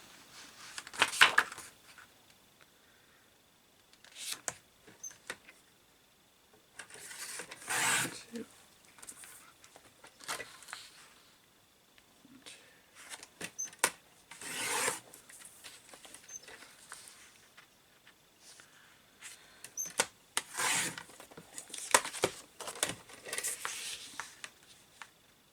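Scissors or a paper trimmer slicing cardstock for Easter cards, heard as repeated quiet crisp swishes and taps in irregular bursts at close range, with short gaps between cuts.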